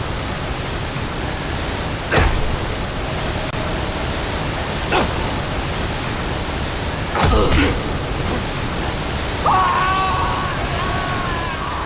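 Steady broadband rush of a waterfall in Indiana Jones and the Emperor's Tomb, loud and continuous for the full length, broken by a few short thumps and a brief voice-like sound near the end.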